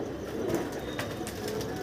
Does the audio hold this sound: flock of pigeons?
yes